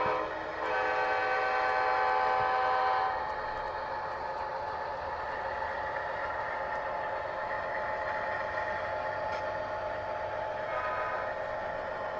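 A model train locomotive sounds its horn, a sustained multi-tone blast that holds for a few seconds over a constant rumbling motor drone, followed by quieter steady running hum and a brief second horn-like swell.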